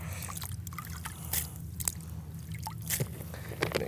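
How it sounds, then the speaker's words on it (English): Lake water poured into a carp groundbait mix, with soft drips, trickles and squishy wet splashes coming in short bursts over a low steady background, close and fairly quiet. "I'm going to add a bit more water to the mix"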